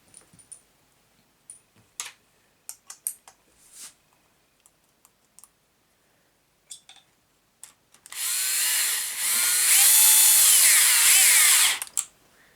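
A power drill whirs for about four seconds, driving screws into a plastic part, preceded by scattered light clicks and taps of handling the pieces; loud and close, with no talking.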